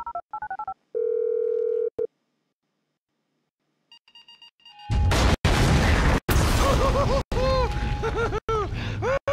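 Electronic keypad tones of a phone dialing in GTA V beep in a quick series, then a steady dial tone, followed by loud chaotic bursts and booms with sharp cracks.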